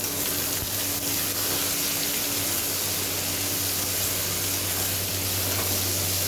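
Chopped onion frying in a pan for an aloo chicken curry, over whole garam masala spices already toasted: a steady, even sizzle that holds close and continuous throughout, with no talking.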